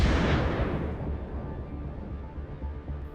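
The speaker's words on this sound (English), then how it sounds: "Then, another drone drops a bomb on the MTLB." A bomb dropped from a drone bursts on a Russian MT-LB armored vehicle: one heavy blast at the start that decays into a long, fading low rumble.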